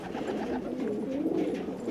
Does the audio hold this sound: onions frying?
no